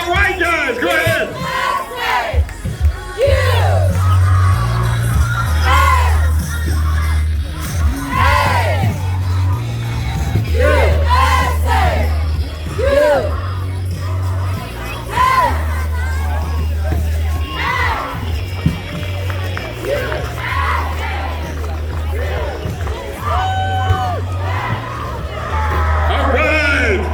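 At a Fourth of July parade in Fremont, California, a crowd yells and cheers continuously over a low droning hum, with voices and shouts mixed throughout.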